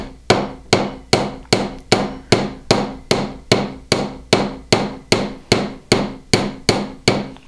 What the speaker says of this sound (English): You will want to make sure to hammer this ring pretty flat